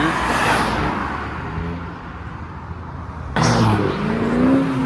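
A V8 car brought over from Australia rolls past at a Japanese car meet in Reading in December; a loud, close engine rumble dips slightly, then swells again as it moves by, with no talking.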